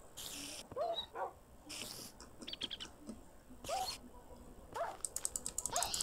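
Dog barking in the Minecraft video game, several short sharp barks scattered through the clip, mixed with clicking mechanical game sounds and a steady background hum.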